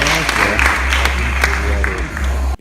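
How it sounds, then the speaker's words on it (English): A crowd applauds athletes at the ANB Universe International bodybuilding contest, loud continuous clapping mixed with a low, booming hall hum and a few sharper claps, ending abruptly. "Round of applause for our athletes"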